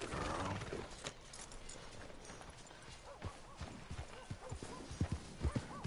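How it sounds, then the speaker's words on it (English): Steady clip-clop of horse hooves at a trot in Red Dead Redemption 2, close and rhythmic, with a faint whinny and soft game ambience underneath. "All right, back on the horse we go."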